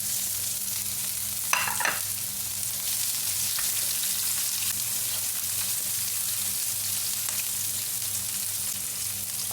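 Onion sizzles steadily in a hot pan, a bright continuous frying hiss with a few clinks of stirring near the start, close and without talk.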